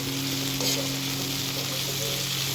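Capsicum and tomato fry in a pan, a loud, steady, close sizzle holding evenly throughout with a low constant hum underneath.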